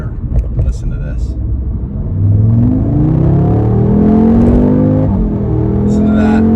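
A 2022 Audi S3 Prestige sedan's engine and exhaust rev up, climbing steadily in pitch into a loud, sustained throaty drone, with a rougher idle rumble and some talking at the start.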